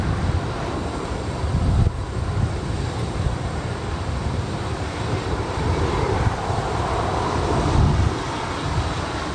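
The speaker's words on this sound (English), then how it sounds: "ANA Flight 5 to Tokyo Narita, 777-300ER." An ANA Boeing 777-300ER airliner at Los Angeles International Airport gives a steady, broad jet engine roar at moderate distance, holding throughout with slight swells and no speech.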